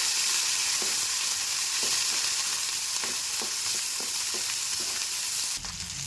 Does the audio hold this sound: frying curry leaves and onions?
yes